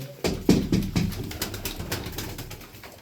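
Tumbler pigeons coo close by in a loft, a few low throaty coos in quick succession at the start, then softer murmuring and faint wing movement.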